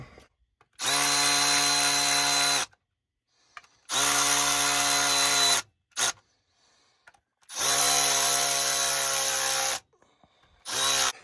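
A power tool drives bolts into an 18-speed transmission housing in three long, steady whirring bursts, with a short blip between the second and third and near silence in the gaps, loud and close.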